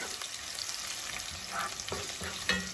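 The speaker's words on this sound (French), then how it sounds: "Là, j'ai mes oignons. Je les rends translucides." Onions frying in oil already used to fry catfish, a steady close sizzle with a few soft stirring scrapes.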